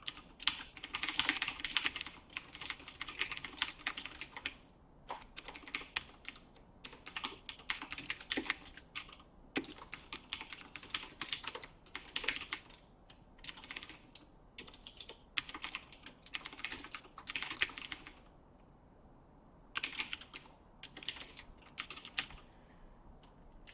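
Steady, close computer-keyboard typing in bursts of rapid clicks with brief pauses, running the whole time during game engine programming, with no talk.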